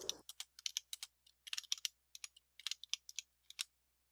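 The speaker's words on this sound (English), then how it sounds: "She's typing really, really loud." Loud typing on a computer keyboard, close and crisp, a fast irregular run of sharp key clicks in bursts with short pauses, alone with no talk.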